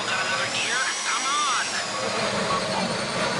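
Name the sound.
power drill running, from a video game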